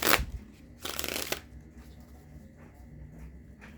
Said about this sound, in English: we're almost done shuffling the cards